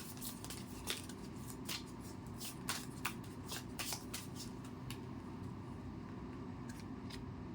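Tarot cards shuffled for a love message reading, a steady run of crisp riffling and slapping card sounds, close and fairly quiet, with no talk.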